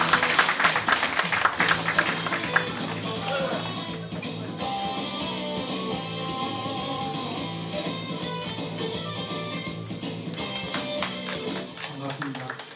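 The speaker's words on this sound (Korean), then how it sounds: "여러분 뜨거운 박수로 환영해 주시기 바랍니다." Audience applause welcoming a professor giving a lecture on leaders at the centre of the world, dense sustained clapping from a sizeable hall crowd, strong at first then holding steady for over ten seconds, with some voices mixed in.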